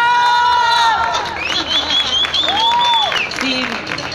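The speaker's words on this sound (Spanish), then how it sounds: "¡Un aplauso!" Applause and cheering rise from an audience at a rock music school in Querétaro, with loud clapping mixed with high whoops and shouted voices throughout the short burst.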